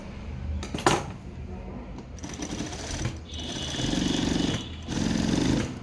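A sewing machine stitches the neckline of a garment in short bursts, its rapid mechanical rattling chatter starting and stopping several times with brief pauses between runs, close and fairly loud.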